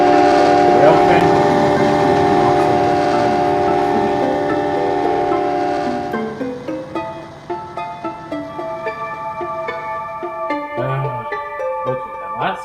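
A loud train horn blares for several seconds, then fades as railcars clatter past in a rhythmic clacking, with a crossing bell ringing.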